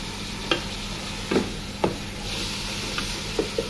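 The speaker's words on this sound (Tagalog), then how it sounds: "Haluin po natin yung karne." Mutton is being stirred in a pot for a vegetable stew, with a steady sizzle under several light scraping stirs at irregular intervals.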